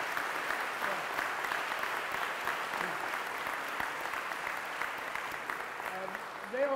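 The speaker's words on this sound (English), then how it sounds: "I think you all ought to applaud all of our school system." An audience at a middle school gym dedication ceremony applauds, a steady, even wash of many hands clapping heard from some distance, faint voices mixed in, continuing throughout.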